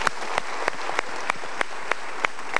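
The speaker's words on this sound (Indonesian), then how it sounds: "Kita berikan tepuk tangan untuk mereka." A studio audience applauds continuously, a dense wash of clapping with regular sharper claps punctuating it, steady for the whole stretch.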